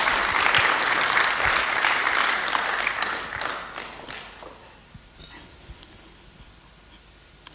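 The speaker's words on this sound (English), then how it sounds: "Another round of applause for Dr. Rosa." A room of attendees at a corporate wellness day applauds a doctor after a health talk. The clapping is full and steady for about four seconds, then thins out and fades to a few scattered claps and quiet room noise.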